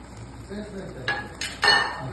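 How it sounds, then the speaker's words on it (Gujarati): Vegetarian white sauce pasta going into a pan already holding white sauce, heard as a few short clinks and bright scrapes of utensil on pan over a low background hum, with the loudest clatter near the end. "હવે આપણે આ પાસ્તા નાખીશું"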